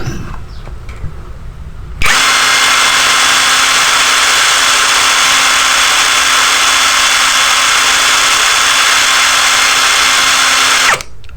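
An NPP impact wrench runs at its lowest speed setting, a steady, loud mechanical whine that starts abruptly, holds constant for about nine seconds, then cuts off sharply. No one speaks.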